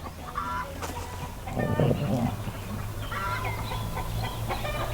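A group of chickens on a farm cluck and chatter continuously nearby, with overlapping soft clucks and short squawks over an outdoor background.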